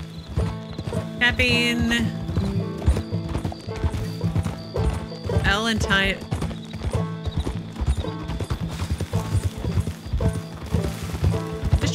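Horse hooves clip-clopping steadily in Red Dead Redemption 2, close and rhythmic, with a couple of whinnies, game music and brief spoken voices mixed in.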